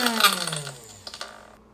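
A Mr. Coffee electric grinder roars as it grinds coffee beans, its motor whine sliding downward and fading as it winds down, with a few small clicks at the end.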